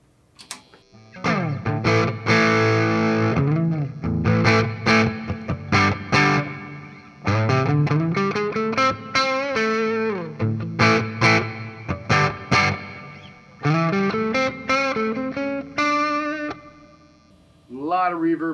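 An electric guitar runs through a Pearce G1 preamp, switching between a reverb-heavy clean channel and a drier crunch channel. Strummed chords and short phrases ring out loud and close with distortion and effects, and brief pauses fall between passages.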